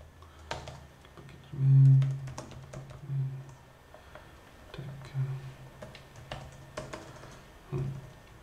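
Typing on a computer keyboard while a small program is written, a sparse run of light clicks and taps at an irregular pace, close and quiet, with a few louder key thumps.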